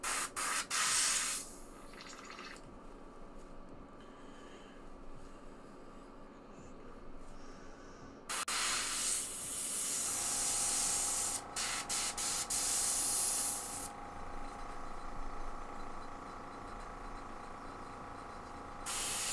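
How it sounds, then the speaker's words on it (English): Airbrush being cleaned by spraying, giving bursts of sharp, close hissing air that start and stop, with one long steady spray in the middle and quieter gaps between. "I gotta clean my airbrush up."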